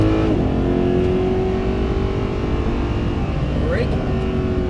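A Mercedes-Benz SLS runs at full throttle on a track, a loud, close, sustained engine drone with a quick upshift near the start and another rise toward the end, under an instructor's voice.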